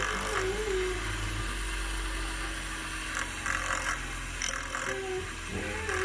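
Buffing wheel spinning while an Andis Master clipper blade is sharpened: a steady motor drone and whirr throughout, with a few brief brushing, scraping touches against the wheel.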